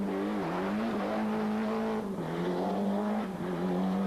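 A Ford Escort Cosworth rally car at the 1994 Rally des Hautes Fagnes drives hard nearby, a steady loud engine roar with pitch dips at gear changes and a brief lift, no voices.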